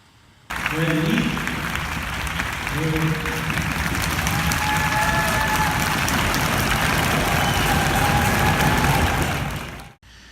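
Sustained audience applause at a horse crowd-desensitization demonstration at the Washington State Horse Expo 2018, a dense clapping roar lasting several seconds, with a low engine-like hum and a faint voice in the background.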